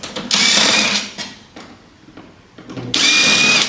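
Power screwdriver backing Phillips screws out of the airbox on a damaged Ferrari FF V12, two loud close whirring bursts separated by quieter handling noises, no talking.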